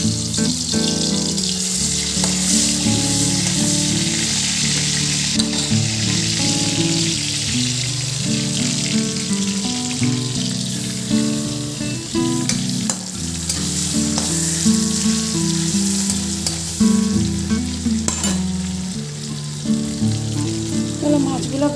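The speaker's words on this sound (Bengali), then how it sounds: "তাহলে মাছগুলো ভেজে আসছি" Fish frying in hot oil gives a loud, steady sizzle with occasional spatters and stirring scrapes. Faint tonal sounds carry on in the background.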